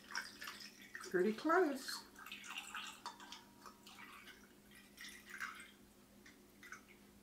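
Homemade fire cider is poured from a bowl into a jar, a faint trickle and a few drips heard quietly beneath a person's talking.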